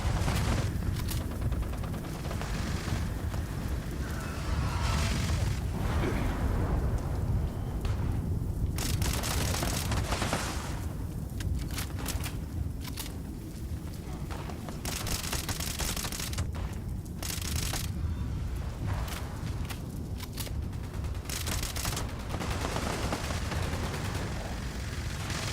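Gunfire in Fallout 76, dense and continuous bursts of shots and booms layered over a loud, rumbling background for the whole stretch, with no talk.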